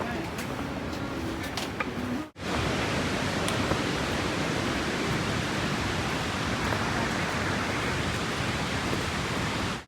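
Steady broadband rush of a waterfall pouring continuously beside the Hemkund Sahib mountain trail during heavy rain, loud and close, with a brief drop in the sound around two seconds in before the torrent resumes.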